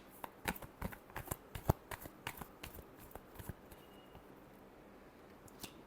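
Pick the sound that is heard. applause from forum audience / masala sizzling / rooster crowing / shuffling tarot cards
shuffling tarot cards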